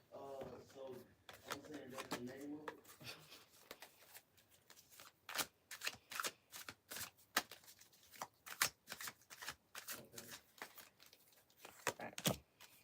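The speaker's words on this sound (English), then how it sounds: "Got to separate those 5 cards." Tarot cards shuffled and split apart by hand, a quick run of crisp riffling and flicking sounds, close and fairly quiet, with a person talking softly at the start.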